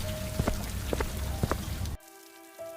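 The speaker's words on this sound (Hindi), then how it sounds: "आसमान में बिजली कड़कती रही और जोर जोर से बारिश पड़ती रही।" Heavy rain patters densely with scattered distinct drops for about two seconds, then cuts abruptly to near silence with a faint tonal hum.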